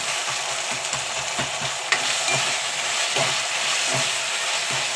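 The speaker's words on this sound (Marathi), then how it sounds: "अद्रक लसूण पेस्ट किंवा अद्रक लसूण तुम्ही मोठे मोठे वाटून यामध्ये कांद्यामध्ये फ्राय करून घेऊ शकता" Ginger garlic paste sizzles with onions in a hot pan, a steady loud frying hiss with soft rhythmic stirring scrapes.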